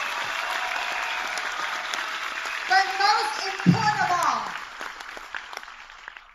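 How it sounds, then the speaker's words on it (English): An audience at a Jeunesse Global event applauds the company founders, a sustained broad roar of clapping that fades toward the end as someone speaks over it. "Come on, give a big round of applause, please."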